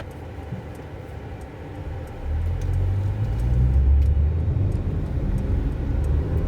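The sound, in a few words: 2022 Mercedes-Benz C 300 driving in comfort mode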